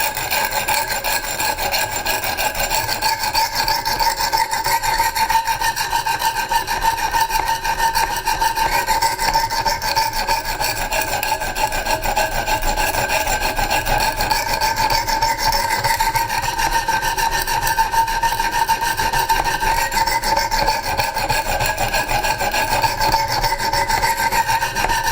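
Strider SMF knife blade being sharpened on rough grit stones on a Wicked Edge system, giving a continuous rhythmic rasping stroke after stroke, loud and close, with no talk.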